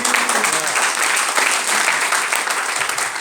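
Applause from a seminar audience in a hall, a dense and steady burst of many hands clapping together at close range. It fills the short clip without letting up.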